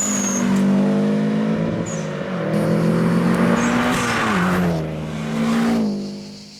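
A 1999 Subaru Impreza GT engine runs loud and close, its steady low drone rising and falling as it revs, with no talk over it.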